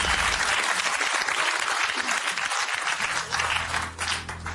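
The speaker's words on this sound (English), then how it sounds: "What are you clapping?" A game-show studio audience claps in a dense, continuous burst of applause, steady and fairly loud throughout with no clear talking.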